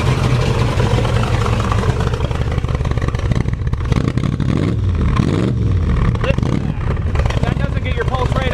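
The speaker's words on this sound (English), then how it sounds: "Listen to that big block roar." The 1967 Shelby Cobra's big block engine rumbles loudly at idle with uneven throbbing pulses and a few revs up close, while someone talks over it.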